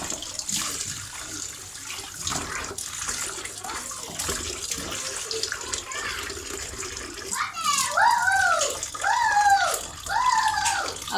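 Jackfruit seeds are washed by hand in water, a close splashing and sloshing that swells in the second half, with voices talking in the background.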